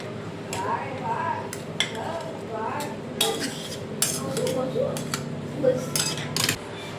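Spoon clinking and scraping in a bowl while masala sandwich filling is mixed, with repeated sharp clinks and soft stirring strokes at close range and some background talk.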